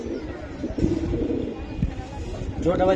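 Giribaz pigeons coo softly at a pigeon sale, low murmuring calls repeating close by beneath a busy babble of voices and someone talking.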